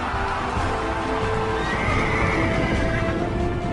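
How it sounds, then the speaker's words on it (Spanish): Horses whinny and neigh loudly over a dense, continuous rumble of hooves and crowd noise, evoking a chariot race at an ancient hippodrome. "También estaba el hipódromo, donde se celebraban las carreras de carros y caballos."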